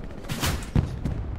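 Gunshots ring out in the World War II shooter Hell Let Loose: two distant, muffled reports a fraction of a second apart over a low battlefield rumble.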